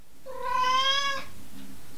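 A single loud, drawn-out meow from a cat close by, rising and holding for about a second before a faint second murmur.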